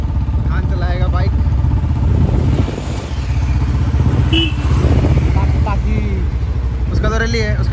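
A motorbike engine runs steadily with a rough, continuous drone, loud and close, while people talk over it.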